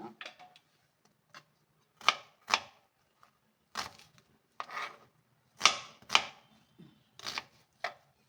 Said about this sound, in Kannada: ಈಗ ಈರುಳ್ಳಿ ಕಟ್ ಮಾಡ್ಕೊಳ್ತಾ ಇದ್ದೀನಿ